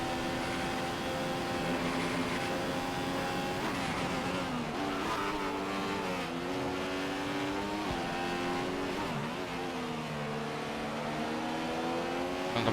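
A Formula 1 car in the F1 2015 video game runs the closing laps of the British Grand Prix, its high-pitched engine whining continuously with repeated rises and falls as it shifts through gears and corners.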